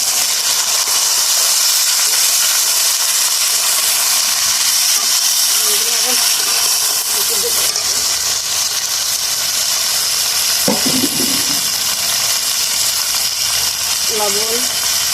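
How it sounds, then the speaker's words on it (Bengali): Chicken feet sizzling in a pan with fried onion and garlic, a constant loud hiss and crackle, with brief stirring and a voice talking over the frying. "পেঁয়াজ রসুনটা পুরো ভাজা হয়ে গেছে, তাহলে ঠ্যাংটাগুলো দিয়ে দিলাম।"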